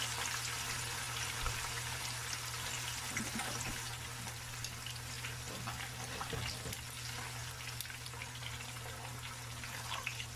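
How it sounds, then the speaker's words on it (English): Fish sizzles and crackles steadily in hot oil for escovitch fish, a continuous close frying hiss with scattered pops and no talking. "we're going to let the fish fry on each side about 2 to 3 minutes"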